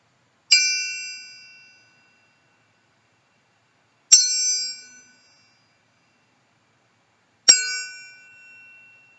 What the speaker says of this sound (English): I'm going to hit the chime 3 times.